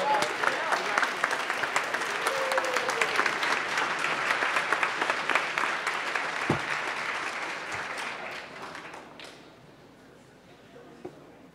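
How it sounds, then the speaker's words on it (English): A high school audience applauds a team, the clapping strong and continuous at first, then thinning out over the last few seconds amid a little murmuring. "let's give a round of applause to our next team"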